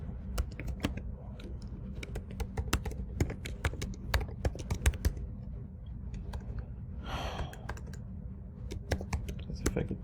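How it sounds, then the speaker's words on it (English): Rapid, uneven keystrokes tapped on a computer keyboard, close and fairly quiet, with sharp clicks scattered through the whole stretch and a soft sigh or breath partway through. "As if I could type well."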